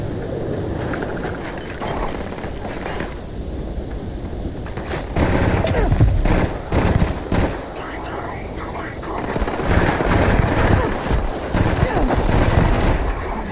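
Rapid bursts of Drum Beat rifle fire in the video game Starfield, loud repeated volleys between quieter stretches, with someone talking over the shooting.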